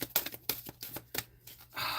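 Rapid riffling clatter of playing cards in several quick bursts, close up, with a brief softer rustle at the end; no talking.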